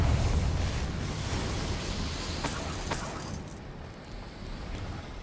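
Confringo blasting spell from Hogwarts Legacy, a broad rumbling blast with crackling debris that rolls on for several seconds, with sharp crack-like hits partway through before the roar thins out.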